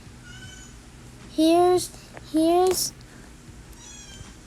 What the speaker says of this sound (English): Oh, my cat's up here.